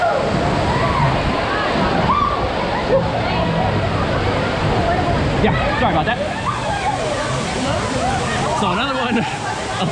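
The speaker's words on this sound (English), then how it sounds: "there's a waterfall." A waterfall inside a haunted attraction, a continuous rushing and sloshing of falling water, close and loud, with people talking and crowd babble over it.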